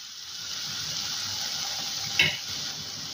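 Sugar being stirred into tomato chutney in a pan on the stove, with a soft continuous sizzle and faint scraping, plus a single brief knock of a spoon against the pan.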